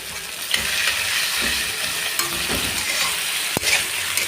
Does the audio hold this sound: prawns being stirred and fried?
yes